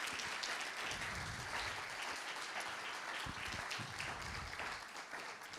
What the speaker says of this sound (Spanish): ¿Pueden dar un aplauso para la gloria del Señor a los hermanos que nos están?